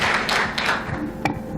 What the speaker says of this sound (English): let's give a round of applause for Sahiti for standing up